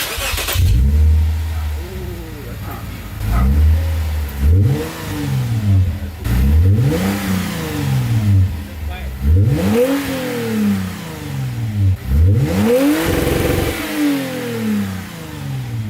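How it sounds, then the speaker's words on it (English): A Lexus IS250 with an HKS Hi Power exhaust revs hard in repeated bursts, bouncing off the limiter with sharp stuttering two-step pops between climbs, loud and close with occasional voices. "That was two-step. The rev limiter."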